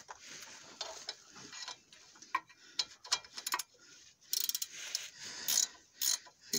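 A ratchet wrench unscrews a bolt on the suspension arm of a Fiat Stilo 1.9 JTD, giving close, rapid clicking in irregular bursts with brief pauses and metallic knocks, and no talking.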